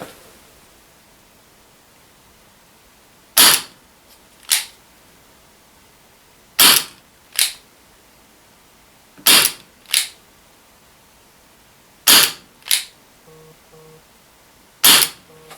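An Umarex Elite Force H8R CO2 airsoft revolver firing 0.2 gram BBs on a fresh CO2 bulb: sharp, loud cracks in evenly spaced pairs, each shot followed by a softer report, with quiet gaps and no talk.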